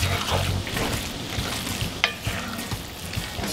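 Queso cheese dip being stirred while it cooks, with soft scraping and stirring through a low sizzle and a few sharper clinks of the utensil against the pan.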